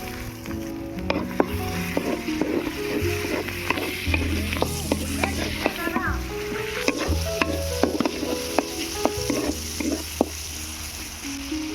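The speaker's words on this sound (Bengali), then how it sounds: "আদা রসুন পেঁয়াজটাকে আমি ভালো করে ভেজে নেব।" Chopped onion, ginger paste and garlic paste fry in mustard oil in a kadai for a veg dal. A steady sizzle runs throughout, broken by frequent scraping and clanking of a spatula stirring against the pan.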